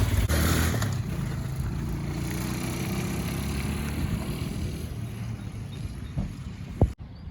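An old $400 pit bike that sat in a barn for years runs loud and close at first, then its engine drone recedes into a steadier distant hum, ending with a sharp knock.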